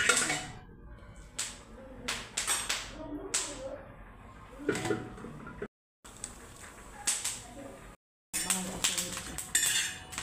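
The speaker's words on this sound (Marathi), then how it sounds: "आणखीन ह्याला पळी घोटायचं." Cooked pumpkin mashed with a ladle in a pan, a series of sharp metallic scrapes and clinks in uneven bursts, close by, broken by two brief silent gaps.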